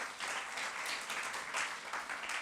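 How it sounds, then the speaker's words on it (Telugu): A church congregation claps, a steady, fairly distant wash of many hands continuing throughout at an even level. "గట్టిగా చప్పట్లు కొడదామా?"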